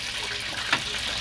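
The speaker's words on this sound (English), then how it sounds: "that noise you hear is my onion rings" Onion rings fry in hot oil with a steady, hissing sizzle, moderately quiet and continuous, with a soft pop partway through.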